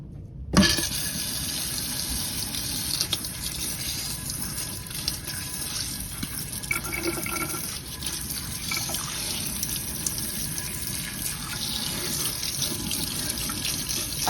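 Steady tap water runs continuously into a sink while seeds are rinsed during a seed sanitation procedure, a constant close splashing hiss with small drips and trickles, no voices.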